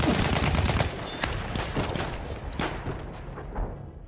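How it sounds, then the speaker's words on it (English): Video game battle with gunfire and rocket grenades, dense bursts of shots and blasts at the start easing into scattered reports that trail off. "They're trying to hit me with those rocket grenades."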